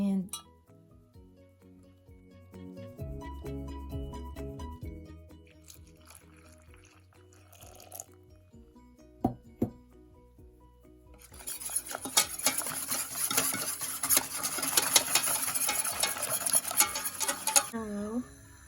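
A half cup of rice flour being mixed in a saucepan, with soft scraping and clinking of a utensil against the pan, quiet at first and growing louder and busier toward the end.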